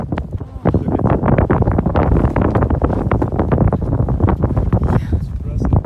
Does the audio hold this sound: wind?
yes